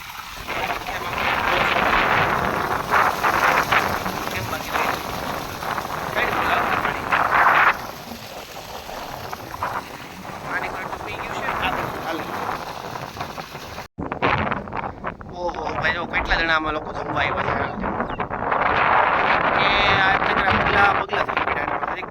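Strong wind gusts buffet the microphone beside a farm pond in a village, a loud rushing roar with a brief cut midway, while people talk intermittently over it.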